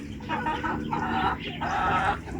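Chickens clucking in repeated short bursts, close and moderately loud, at a farm attraction in Perak, Malaysia, with a steady low background murmur.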